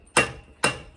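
Two sharp hammer blows on forged metal being straightened for a lid lifter, evenly spaced and close, each ringing briefly before the next strike.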